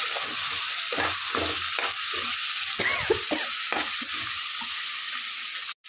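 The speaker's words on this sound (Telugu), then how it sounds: "ఉల్లిపాయలు పచ్చిమిరపకాయలు యాడ్ చేసి బాగా మిక్స్ చేసుకో." Onions and green chillies frying in a pan hiss steadily while a spoon scrapes and stirs in repeated strokes; the sizzle stops abruptly at the end.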